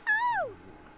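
A single clear cat meow from The Sims 3, rising then falling over about half a second, close and alone.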